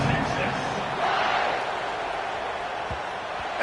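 A football video game stadium crowd roars in a steady, continuous wash of cheering throughout, with a couple of faint thuds near the end.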